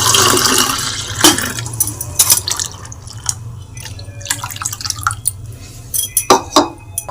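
Water trickles and splashes into a mixer jar holding ground ingredients for a sprouted horse gram saaru, with scattered drips and clinks over a steady low hum and no talk.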